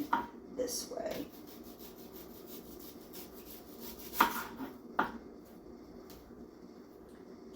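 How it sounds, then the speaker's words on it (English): A knife slices through an onion in a home kitchen, giving a few quiet cuts and scrapes with sharper knocks against the board, spaced irregularly over faint room noise. "I am just going to slice this onion this way"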